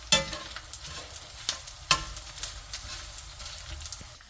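Laddu ingredients dry-fry in a pan until they pop, giving soft sizzling and stirring scrapes with several sharp pops and crackles at irregular intervals, close and fairly quiet, with no voice.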